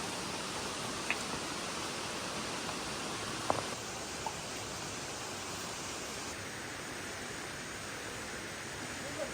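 Sidheswara Kona waterfall in the Rapur forest gives a constant, dense roar of falling water, steady and fairly loud throughout, with a few faint clicks and no clear talking.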